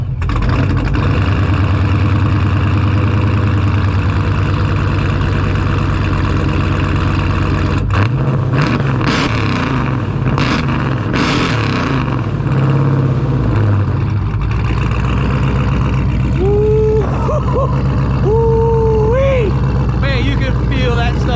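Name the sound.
supercharged Dodge Scat Pack engine starting and revving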